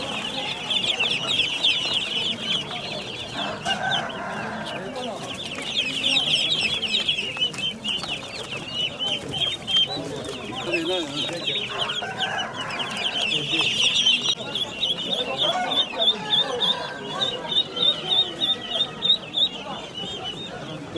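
Many chicks peep and cheep in a high, busy chorus while chickens cluck nearby at a place selling chicks, with people talking in Turkish over the noise.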